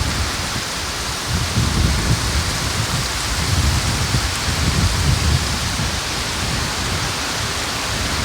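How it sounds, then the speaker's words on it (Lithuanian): Heavy rain falls steadily and loudly, with a dense, unbroken hiss of drops hitting the surfaces close by. "Gražiai lyja."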